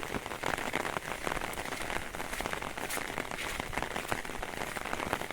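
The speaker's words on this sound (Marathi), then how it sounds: "बारीक बारीक पाऊस पडतात आता इकडे" Light rain falls steadily in the first monsoon showers in the countryside near Kumbhavade, Rajapur, a dense, even patter of drops close by throughout with no voices.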